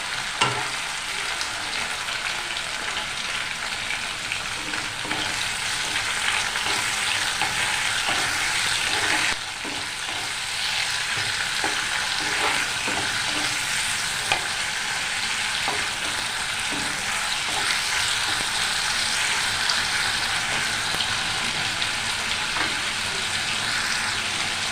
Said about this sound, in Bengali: এবার চিংড়ি মাছটাও একটু ভেজে নেব